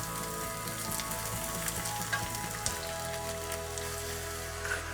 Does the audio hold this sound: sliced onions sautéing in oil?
yes